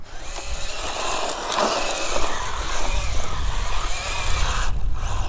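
An ARRMA Infraction 3S RC car drifts across a parking lot on bald tires, its electric motor whining and its tires scrubbing on asphalt in a continuous, fairly loud, close rush of sound.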